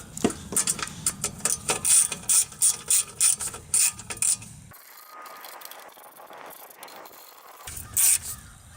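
Three small shoulder bolts being tightened to fasten the top on, likely during repair of a small engine with a broken flywheel key, a ratchet clicking in quick repeated bursts close by, then a pause and a final short burst.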